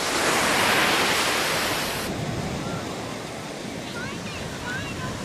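Surf washing onto a foggy Cape Cod beach, a steady broad wash of waves with some wind buffeting the microphone, loud at first and settling into a softer, even roar.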